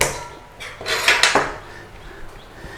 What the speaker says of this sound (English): give that a little stir in there, mix it all in